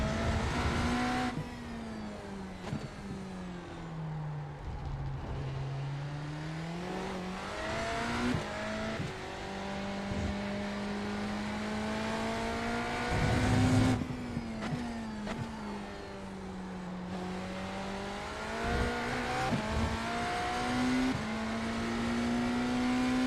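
A Porsche Cup race car engine in the RaceRoom racing game howls steadily at high revs at Spa, rising and dipping through gear changes and braking, with occasional tire noise, loud and continuous throughout.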